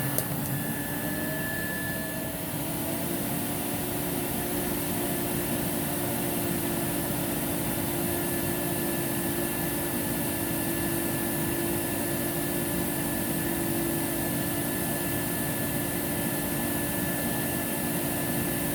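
A Rainbow E2 Black vacuum cleaner runs during an airflow test, a loud, steady whirring roar with a constant hum that carries on unbroken and unchanged.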